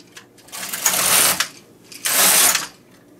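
Knitting machine carriage pushed across the bed for two rows while making double-layer slippers: two loud mechanical whirring, clattering passes, each about half a second to a second long, close by with no talk.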